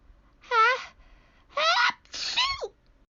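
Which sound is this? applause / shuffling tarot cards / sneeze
sneeze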